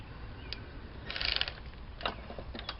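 A ratchet tightening throttle body bolts on a 2003 Acura TL, with faint, scattered clicking bursts over low background noise, no talking.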